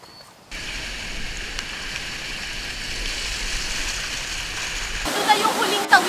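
A river current swollen by a heavy downpour rushes in a steady, loud roar for several seconds, then breaks into brighter, splashier churning near the end.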